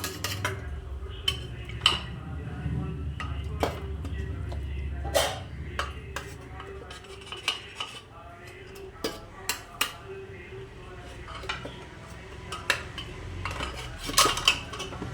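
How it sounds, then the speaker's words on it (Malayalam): Metal utensils clink and scrape against a pressure cooker pot as cooked meat is lifted out for a meat rice dish, with sharp, irregular clinks over a low rumbling background and no talking. "ഇറച്ചി മാത്രം ഇതിൽ നിന്നെടുത്ത് മാറ്റും നമ്മൾ."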